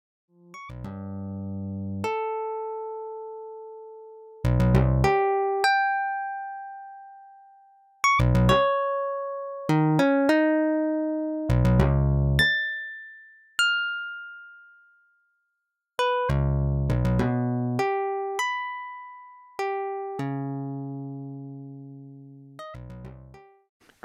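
Electronic synthesized tones generated from an integer sequence (mod 5) play one by one in an irregular, sparse sequence, each note struck and decaying, with short silent gaps between some of them.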